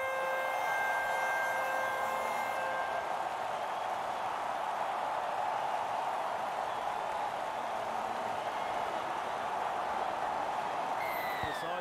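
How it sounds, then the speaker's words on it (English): A full-time siren sounds at a rugby league playoff eliminator final between Portland Panthers and San Francisco Miners, a steady tonal wail over a loud, continuous crowd roar for a few seconds before fading into the stadium noise. "The siren has sounded."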